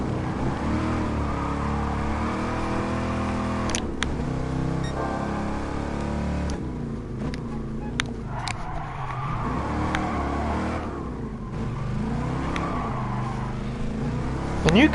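A racing car engine in the video game GT Sport, revving hard and continuously with rising and falling pitch as it shifts gears, with occasional sharp clicks and a brief skid-like edge.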